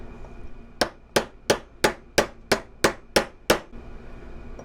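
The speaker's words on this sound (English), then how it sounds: "I'm using a hammer that is used to being beat up on the end" Nine sharp metallic hammer blows on a metal mandrel for making beads ring out in a steady, evenly spaced rhythm, close and loud, with a quiet low hum between strikes.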